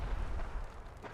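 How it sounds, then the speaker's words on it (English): A bomb explodes in the VR video game Fallout 4, a dense low rumbling blast that fills the whole moment at steady loudness, with no talk over it. "That's a bomb."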